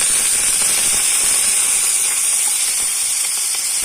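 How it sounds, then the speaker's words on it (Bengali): Panch phoron and green chillies sizzle in hot oil in a kadai, giving a steady, loud, close hiss with fine crackling throughout and no talking. "তারপর একটু পাঁচফোড়ন দিলাম কটা কাঁচা লঙ্কা দিয়ে দিলাম"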